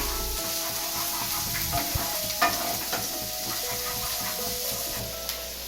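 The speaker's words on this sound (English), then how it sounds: "Give it a nice saute," Finely chopped grated ginger with garlic sizzles in hot oil in a pan for dry veg Manchurian, a steady close frying hiss broken by scraping stirs and a few utensil clinks.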